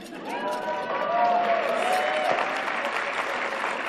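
A live-talk audience bursts into clapping and some cheering, a full crowd applause that holds at a steady level, with voices talking over it.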